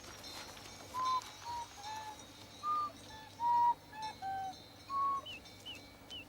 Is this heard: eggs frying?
no